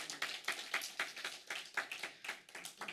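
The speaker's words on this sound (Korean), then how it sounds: "주님께 감사의 박수를 올려드릴까요?" A church congregation at a prayer meeting claps rhythmically in unison, quick regular beats about four per second, moderately quiet and without speech.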